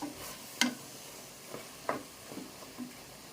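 Spices and masala being stirred in a pan for mutton biryani, with a faint sizzle beneath a few sharp scrapes and clinks of the spoon at irregular intervals, fairly quiet and without talk.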